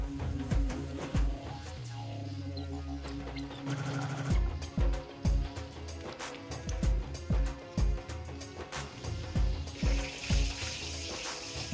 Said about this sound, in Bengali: আর মাংসটাকে আমরা একটু তেলে ভেজে নেব